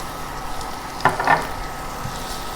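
Garlic and ginger frying in hot oil while chicken 555 is being cooked give a steady soft sizzle, with a brief louder crackle in the middle and no voices.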